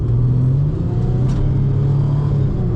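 A 4-litre V6 in a muscle car drones at close range with a deep, steady engine rumble and a low tonal hum, holding a fairly constant pitch throughout.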